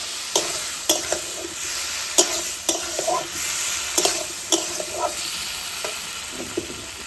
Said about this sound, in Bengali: মশলাটাকে আমি ভালো করে নেড়ে চেড়ে মিশিয়ে দিব সবজির সাথে।